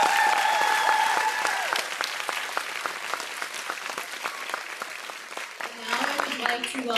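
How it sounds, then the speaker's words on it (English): Audience applause at a 2025 nursing college ADN commencement and pinning ceremony, a steady wash of many hands clapping in a large hall, fading slightly toward the end as a voice begins speaking. "I'd like us all to give a special round of applause to our pinning committee."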